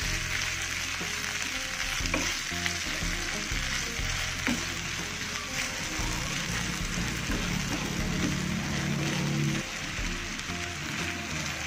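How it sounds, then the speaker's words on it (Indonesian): Keumamah, Acehnese dried wood fish, frying with a little salt in a pan, a dense continuous sizzle with occasional spatula scrapes and knocks throughout. "kita aduk kembali"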